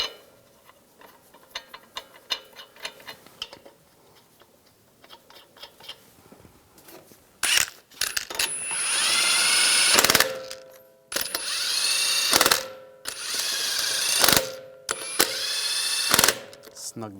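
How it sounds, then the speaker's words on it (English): Power tool whirring as it spins lug nuts onto a wheel of a 2011-2018 Ram 1500 3.6L V6: several loud, sustained bursts with brief pauses between them, following quieter clinking and handling noises. "Now put the wheel on. Get the lug nuts started."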